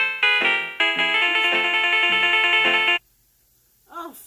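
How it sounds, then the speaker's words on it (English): A phone ringtone for an incoming call in a home kitchen, a loud, close electronic melody of repeated tones lasting about three seconds before cutting off, then a brief voice. "Phone call coming through."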